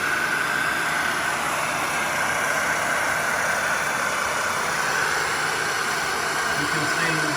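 A heat gun blows hot air along a vinyl wallpaper seam, a steady loud whooshing roar with a constant fan whine that runs unbroken throughout, with someone talking over it.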